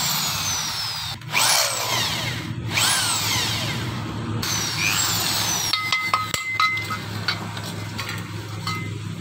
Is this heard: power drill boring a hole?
yes